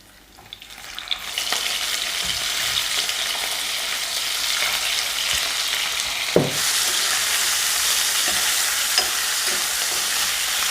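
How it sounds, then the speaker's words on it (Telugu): Salted fish frying in a pan with crushed flavourings for a Telugu lentil curry side, a quiet start then a loud steady sizzle with occasional stirring knocks, close and continuous. "ఈ విధంగా ఒక 2 నిమిషాలు ఫ్రై చేసుకున్న తర్వాత"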